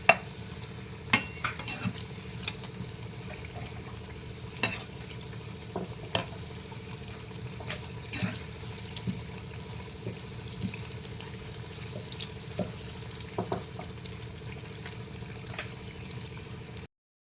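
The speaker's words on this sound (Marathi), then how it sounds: "असं भजी बटाटे असे आलटून पालटून भजी भाजून घ्यायचे" Potato bhaji fritters fry in hot oil with a faint, continuous bubbling sizzle, broken by scattered light clicks as they are flipped and turned. No voices.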